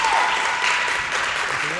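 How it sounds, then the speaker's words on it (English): Spectators applauding at a junior men's curling quarter-final between Italy and Slovenia, a brief steady patter of clapping with commentary talk over it. "With their applause here in the background."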